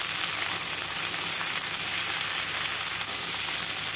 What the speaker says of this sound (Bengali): ঝিঙেটা দিয়ে আবারও ভালোভাবে নেড়ে নেব